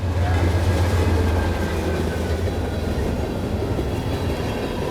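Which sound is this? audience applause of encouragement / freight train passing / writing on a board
freight train passing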